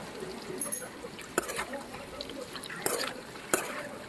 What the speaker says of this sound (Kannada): ಕಲರ್ ಚೇಂಜ್ ಆಗೋವರೆಗೂ ಚೆನ್ನಾಗಿ ಫ್ರೈ ಮಾಡಬೇಕು ಮೊಟ್ಟೆನ